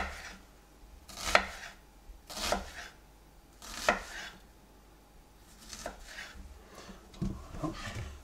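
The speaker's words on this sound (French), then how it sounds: "pour la découpe des carottes" A knife chops carrots into arcs on a cutting board, about six distinct thuds spaced irregularly with soft rubbing between, close and moderately loud, no talk.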